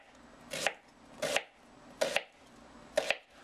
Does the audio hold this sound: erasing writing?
no